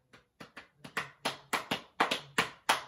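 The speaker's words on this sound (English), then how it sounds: "Or you could tap your knees." Rhythmic taps of hands on knees, about a dozen sharp, close strikes in a steady beat that grows slightly louder, with no talking.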